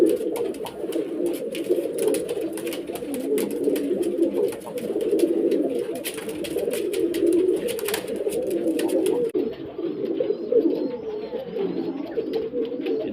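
Girebaaz male pigeons coo continuously in a low, throaty, overlapping murmur, close and steady, with occasional faint clicks and rustles from the birds.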